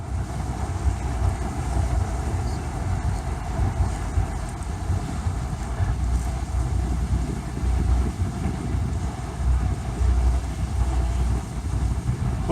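A large self-unloader freighter passes under the Blue Water Bridge at Sarnia, heard as a steady low engine rumble mixed with wind buffeting the microphone and lapping water. The rumble stays constant throughout, with no speech.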